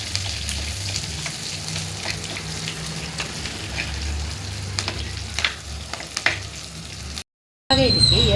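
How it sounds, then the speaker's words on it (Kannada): Crushed garlic and green chilies fry in a hot pan for a Kundapur chicken sukka, a steady close sizzle with occasional stirring scrapes, cut by a brief silence near the end before a louder burst. "ಒಂದ್ಸರಿ ಇದಕ್ಕೆ ಫ್ರೈ ಮಾಡ್ಕೊಳ್ಳಿ"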